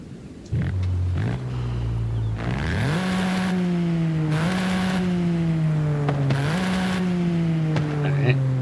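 A Toyota Yaris engine and exhaust in a racing video game rev steadily, climbing in pitch and dropping sharply at each gear change, loud and continuous throughout.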